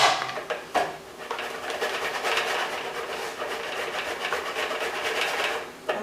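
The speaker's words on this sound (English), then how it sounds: "So a little olive oil, locatelli, just grate it right in there." Locatelli cheese grated straight into a pan of pasta with olive oil, a steady dry rasping scrape repeating close by for several seconds with a few sharper knocks near the start.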